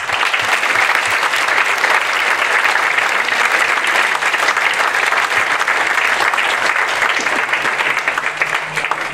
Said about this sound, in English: I'd like to give a massive round of applause to TES Limited that have sponsored this evening tonight